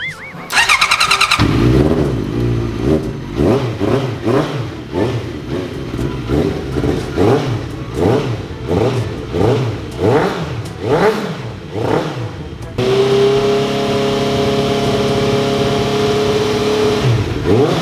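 A Yamaha R1 four-cylinder motorcycle, parked a long time, cranks and fires up, then revs repeatedly in a steady rising-and-falling rhythm before settling into a loud, close, even idle.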